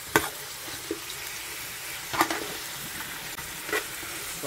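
Chiles and meat frying together in a pan, a steady close sizzle with a few sharper spikes as the food is stirred or shifted, continuous and without talk.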